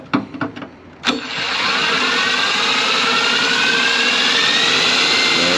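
The engine of a 1968 Volkswagen camper starts after a few clunks and a brief whine, then settles into a loud, steady, roaring run close by.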